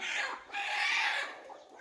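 A country (natu kodi) hen with chicks clucks nearby in a soft, breathy, continuous burble lasting a couple of seconds.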